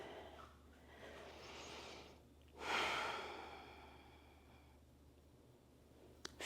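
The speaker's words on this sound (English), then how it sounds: "Nice deep breath." Slow, deep breaths during a gentle yoga session, soft and close: a couple of faint breaths and then one fuller, audible exhale that fades away in a quiet room.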